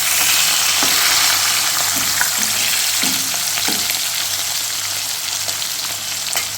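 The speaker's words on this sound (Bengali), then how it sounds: "এদিকে আমার ভাজতে থাকা মাছগুলান এক পাশটা একটু হয়ে গেলে আর এক পাশটা আমি একটু উল্টায় দেব" Silver carp and rohu pieces fry in hot oil, a steady, loud crackling sizzle running throughout with a few soft clicks and knocks from the pan, no voices.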